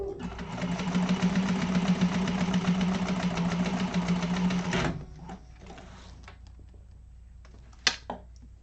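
A sewing machine basting the bottom seam of a fabric organizer bag, running steadily at a fast, even hum for about five seconds and then stopping, followed by quiet handling and a sharp click.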